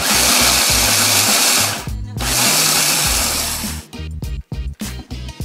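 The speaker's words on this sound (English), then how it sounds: "And we need to chop up the cheese" Parmesan cheese being finely chopped by sharp spinning blades, a loud continuous motorized whir that cuts out briefly, resumes, then breaks into short stuttering pulses near the end.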